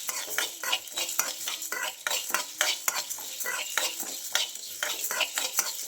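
Country chicken pepper fry masala sizzles in a pan while a utensil stirs it in brisk, rhythmic scraping strokes with metallic clinks, close and steady, no talking.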